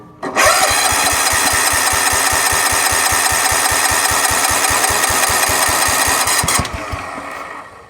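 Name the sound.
1969 Suburban engine cranking, trying to start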